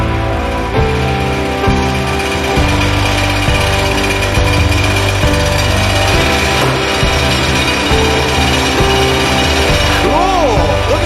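A 1971 John Deere 140 H3 garden tractor engine idles steadily on its own after a carburetor install, a loud, continuous rhythmic chugging with a mechanical rubbing noise mixed in and a voice talking briefly over it.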